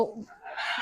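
Desi hens at a poultry farm give a brief, soft cluck and call, faint and close, over quiet farmyard background.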